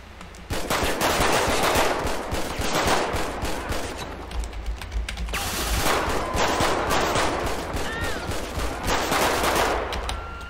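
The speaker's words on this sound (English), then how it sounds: "three shots fired by police." Police gunfire in GTA V, rapid bursts of automatic shots repeating in dense, loud volleys across the whole stretch with brief gaps between flurries and no talk over them.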